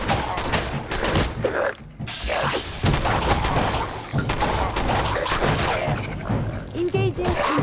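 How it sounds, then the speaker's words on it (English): Gunfire exchange in the video game Fallout 4 Far Harbor, dense bursts of shots and impacts filling the whole stretch at close range, with a companion voice talking over the combat. "Returning fire."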